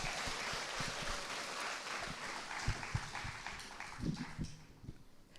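Crowd applause at an International Women's Day celebration, a dense sustained clapping that fills the space, with a few louder close claps standing out near the end.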